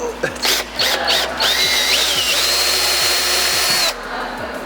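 A power drill whines steadily as it bores out a small hole to a larger size during a boosted Mazda Miata build, its motor droning close and loud for about four seconds before cutting off.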